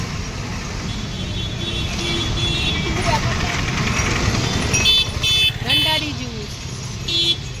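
Busy street traffic while crossing on foot: a continuous rumble of passing cars, buses and motorcycles, with short horn toots near the end, and a person talking over it.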